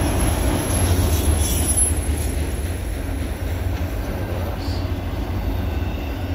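A CSX autorack freight train, including a vintage Burlington Northern car, rolls past close by with a loud continuous rumble, rhythmic wheel clatter and a high metallic wheel squeal running throughout.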